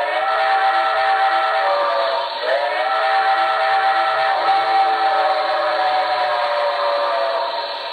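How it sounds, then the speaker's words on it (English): A model Reading T1 4-8-4 steam locomotive whistle sounding a sustained multi-tone chime, briefly dipping then holding on, clear and fairly loud with no talking. "I like that whistle right there"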